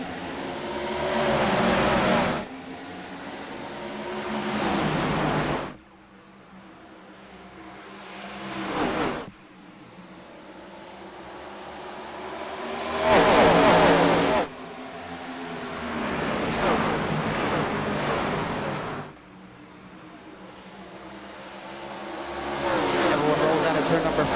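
Race cars roar as they take the green flag at Iowa, engines swelling and fading in repeated surges of acceleration while a commentator talks over them.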